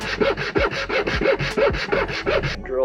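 Plastic edges of a Fox-body console's climate control panel are shaved by hand in about ten quick rhythmic scraping strokes, close and fairly loud, with no talk.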